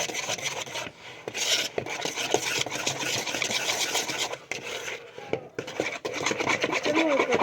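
A spoon scrapes and stirs microwave chocolate chip cookie dough in a bowl, giving steady close rasping and rubbing with short pauses between strokes.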